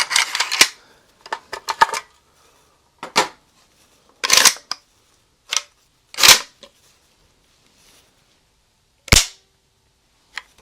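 Dry-fire clicks and mechanical snaps from a Chinese AK rifle's trigger and action, a scattered series of sharp, close metallic clicks separated by short silences.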